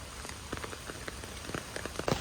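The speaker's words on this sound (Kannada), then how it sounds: "ಗಾಳಿ ಬಡ್ತಾ ನಿಂತಿದೆ ಟೈಫೋನ್ದು ಬಟ್ ಮಳೆ ಬರ್ತಿದೆ" Steady rain from Typhoon Bebinca patters on a surface at night in eastern China, with scattered drops tapping at irregular moments, fairly soft and without any talking.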